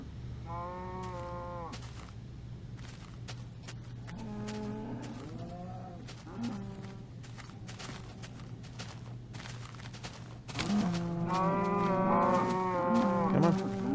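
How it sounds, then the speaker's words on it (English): Cows mooing in a Minecraft world, several long bellowing calls around one and five seconds, then a louder overlapping burst of moos from about ten and a half seconds onward, over a steady low game hum. "the cows are freaking out"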